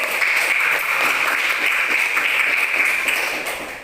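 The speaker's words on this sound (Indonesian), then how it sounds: "kita beri aplaus untuk kelompok 1" Sustained applause from a classroom of students for a presenting group during a school lesson, steady and dense throughout with no talking over it.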